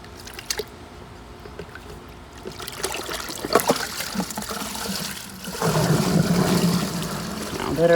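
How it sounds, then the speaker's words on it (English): Water in a swimming pool is drawn along the surface into a skimmer with a weir door, making an uneven trickle and slosh with small splashes that grows into a fuller, steadier gurgling flow in the second half. "you can see how much more vigorously the water is being pulled along the surface"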